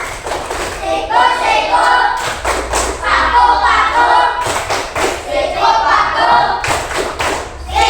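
Children clap hands together in a Tepuk Malaysia clapping game, producing a steady run of sharp, loud claps and thuds while young voices chant rhythmically along.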